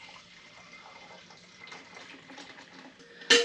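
Raw goat's milk pours through stacked milk filters held with a rubber band, making a soft, steady liquid rush that ends in a sharp, brief clatter.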